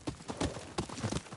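Horse hooves clip-clop in an irregular rhythm in the video game Ghost of Yotei, faint and fairly close, with several scattered clustered steps.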